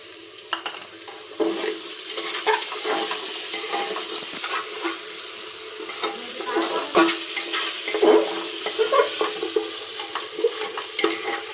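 Tomatoes and masala fry in a pan for a mutton curry, a steady close sizzle broken by repeated scraping stirs of a spoon through the thick mixture.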